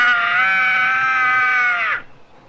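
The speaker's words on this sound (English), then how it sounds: "Might have been a screech owl." Shrill, drawn-out animal screech like a screech owl, loud and close, holding steady for about two seconds before cutting off, followed by faint background.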